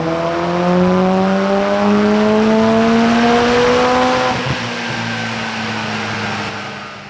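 A Mitsubishi Evo X fitted with an Intense 5656RS turbo running hard on a dyno, a loud close engine note climbing steadily in pitch for several seconds, then cutting off and dropping to a lower idle, with no talking.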